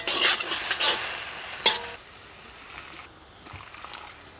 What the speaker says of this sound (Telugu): ఇదంతా హై ఫ్లేమ్లో 2-3 నిమిషాల పాటు కలుపుకోవాలి